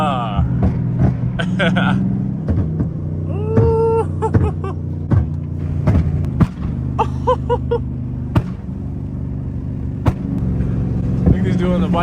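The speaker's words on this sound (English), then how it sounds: "Look at this dude on the bike, bro. Oh, okay then. He got the BURBLE tone too, y'all." A motorbike with a burble-tuned exhaust passes in heavy traffic, giving low rumbling engine sound with crackles alongside other car engines, while people talk over it throughout.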